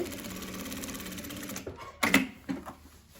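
Sewing machine stitching a straight seam along folded fabric, rapid steady mechanical whirring for over a second and a half, then stopping into a few separate clacks and knocks, close and alone.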